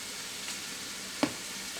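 Ground beef sizzles steadily in a hot pan while bacon-wrapped pepper bombs are prepared, a constant close hiss with one brief pop, no talking.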